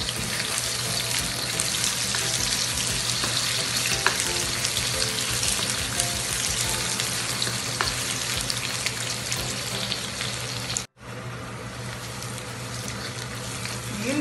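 Onion frying in a hot pan for beef kaldereta gives a loud, dense, continuous sizzle with steady crackle, broken briefly by one short gap before the hissing resumes.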